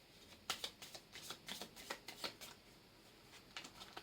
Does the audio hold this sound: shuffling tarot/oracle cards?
yes